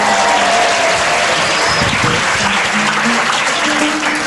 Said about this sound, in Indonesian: Tepuk tangannya buat Faisal.